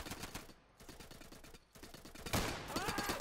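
Rapid gunfire from the video game Insurgency, dense bursts of automatic shots crackling continuously at close range, loud and with brief gaps, no talking.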